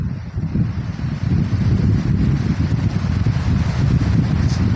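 Outdoor wind buffeting the microphone, a loud, steady low rumble with gusty swells that never lets up.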